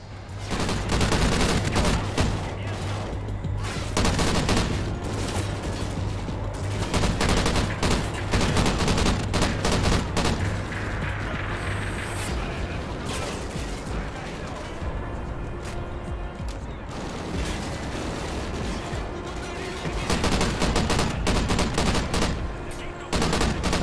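Dense, sustained gunfire from Call of Duty: Ghosts, rapid bursts and scattered shots with crashes and a steady hum underneath, loud throughout.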